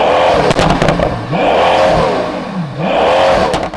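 A Pagani Huayra Codalunga's AMG V12 twin-turbo engine revs up close, loud and alone, with repeated rising and falling surges and a sharp crackle between them.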